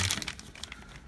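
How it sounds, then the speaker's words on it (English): A plastic bag holding HVAC manifold clamps is opened after its top is snipped with scissors, giving a few close, sharp crinkles that quickly fade into quieter rustling. "Just opened the bag. Just with the scissors."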